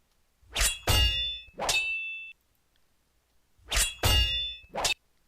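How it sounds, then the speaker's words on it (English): Sword fight sound effects: two quick pairs of sharp metallic clangs with ringing tails, one pair followed by a longer ring, then a pause and a tight triple of clangs, with no voices. "I do like the middle 2 sound effects here."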